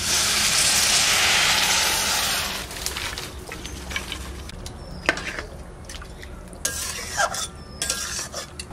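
Pumpkin greens cooking in a pan as water is added, a loud burst of sizzling and steam that fades after a couple of seconds into quieter bubbling, stirring and scattered drips.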